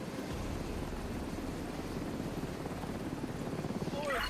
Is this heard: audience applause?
no